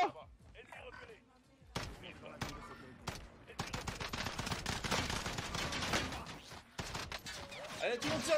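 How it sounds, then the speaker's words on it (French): Gunfire in the video game Warzone, fast bursts of automatic shots and single cracks that build into dense, close, sustained shooting, with players' voices talking over it. "Allez, tout le monde tire, les gars, tout le monde tire"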